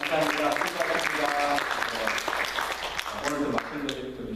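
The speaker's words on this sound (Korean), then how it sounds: "우리 다시 한번 예수 성교회에서 감사의 박수" Applause of thanks from a church congregation during a Sunday worship service, steady clapping filling the room throughout with voices mixed in.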